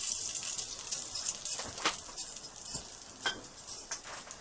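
Cumin seed and asafoetida sizzle softly in hot oil for a spicy red pepper curry, a quiet hiss punctuated by a few light scraping stirs, close and without talk.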